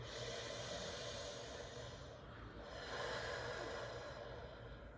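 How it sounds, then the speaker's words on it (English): Deep, slow breaths drawn through an open mouth during a guided breathing exercise: soft, airy inhale and exhale sounds, faint and close, without talking. "And breathe through your open mouth."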